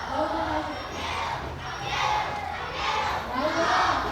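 Children at a local school in the Philippines shout and cheer together at some distance, a rising and falling crowd roar lasting a few seconds.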